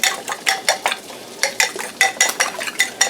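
Six eggs beaten by hand with a makeshift tool instead of a whisk, giving quick repeated clinking, scraping strokes against the bowl in uneven bursts, close and fairly loud with no talking.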